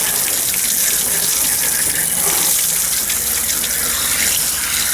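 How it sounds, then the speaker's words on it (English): Water gushes from a hose or tap to rinse fish slime off hands and a cleaning table after a day of trolling, a loud, close, continuous splashing rush with shifting spray. "Shot of water to take some of the slime off."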